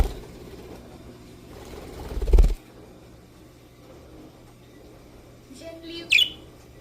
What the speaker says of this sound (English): Naughty little budgie.